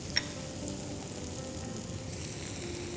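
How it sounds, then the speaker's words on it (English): Potatoes frying in a pan with green chilies for Parsi-style papeta par eeda, a continuous soft sizzle with one brief clink near the start, steady and close, no voices. "And now we have to put in the potatoes."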